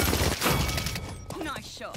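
Dense burst of rapid gunfire from a video game shooter, loud and continuous in the first second, then thinning out as a voice speaks over the tail end.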